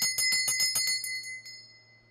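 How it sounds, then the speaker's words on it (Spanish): A bell struck in a rapid run of bright metallic rings, then left to hum and fade into near silence over about two seconds, with a steady low drone underneath. "¿Cuál es la vibración que queda después del sonido de la campana?"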